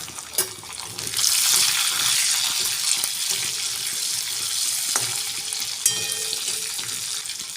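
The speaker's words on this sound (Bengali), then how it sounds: "রসুনটা লাল মতো ভাজা হয়ে গেলে আমি লাউটা দিয়ে দেবো" Garlic cloves, green chillies and a dried red chilli fry in oil with a dense, close sizzle throughout. Occasional stirring knocks and scrapes punctuate it, and there is no talk.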